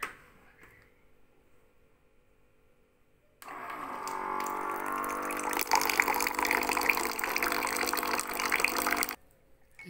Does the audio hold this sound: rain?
no